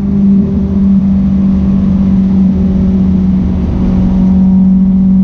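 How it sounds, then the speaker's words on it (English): A Honda S2000 engine drones at high revs into VTEC, a loud constant buzzing tone with no voices over it. "Just hear that VTEC."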